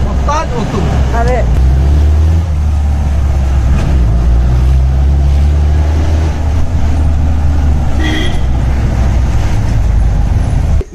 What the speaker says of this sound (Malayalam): ഇതിൽ ടർബോ ആഡ് ചെയ്തതാണ് ഈ വണ്ടിയിൽ.